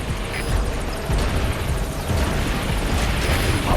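A helicopter touching down in Metal Gear Solid 5, a loud, close, dense rotor roar with steady rapid chopping that fills the whole stretch without a break.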